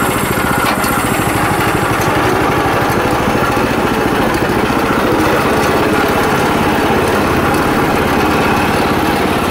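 A Sears Suburban garden tractor engine runs steadily at close range, a loud, continuous buzzing chug with a constant level throughout and no talk.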